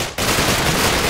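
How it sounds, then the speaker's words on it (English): Assault rifle gunfire in the Minecraft Flans Mod video game, a short, loud, rapid burst that starts abruptly after a brief lull and continues dense to the end. "Oh, you're using a assault rifle."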